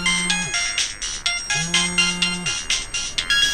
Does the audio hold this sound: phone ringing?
yes